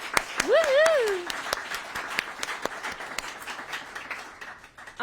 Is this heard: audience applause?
yes